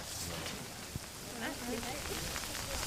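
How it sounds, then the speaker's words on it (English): Rain falls steadily as a dense, hissing wash on an outdoor behind-the-scenes shoot for the British TV series Being Human, with faint voices murmuring underneath. "It's raining, that's what's going on."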